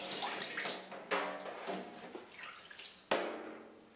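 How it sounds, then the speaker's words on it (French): Cucumber seeds rinsed in a colander under a running tap, a steady splashing water stream with shifting gurgles and a few sharper splashes, close and alone without talk. "On nettoie ensuite les graines dans une passoire sous un jet d'eau."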